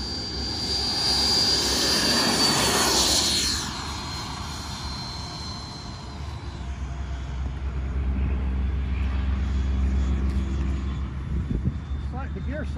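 Steady jet whine and roar from a Burdin T-33 HSD model jet in flight at an RC club field, fading slightly then building again, with voices talking over it; no distinct landing gear cycling sound stands out.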